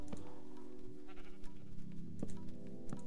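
Sheep bleating in the Minecraft modpack FTB Magic Farm 2, a few short, distinct bleats spaced apart over a low steady background, close and clear with no talk.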